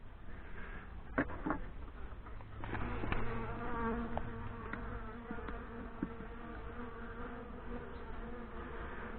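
Honey bees humming in an open nuc hive, a dense, steady buzz close by with occasional louder passes of individual bees and light handling noises.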